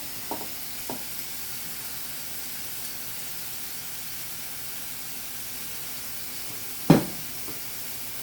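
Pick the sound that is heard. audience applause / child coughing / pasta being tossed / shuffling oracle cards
pasta being tossed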